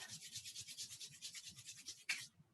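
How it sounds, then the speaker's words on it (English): Two palms rubbing briskly together during a yoga session, a close, soft, rhythmic swishing that ends in one sharper brush, with no voices. "And then just rub your hands."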